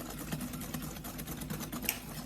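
A whisk beats custard mixture by hand for creme brulee, a quick, even run of light clicking strokes against the bowl, close and fairly quiet, with no voice.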